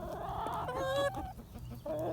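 Farm chickens cluck softly and nearby while pecking at amaranth seed in winter, a few short throaty clucks and one higher call over a low background murmur.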